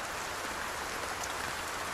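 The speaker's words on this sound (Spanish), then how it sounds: "es que no para de llover" Steady rain pours down in the Project Zomboid zombie survival game, a dense, even hiss of drops filling the whole stretch without a break, with no voices over it.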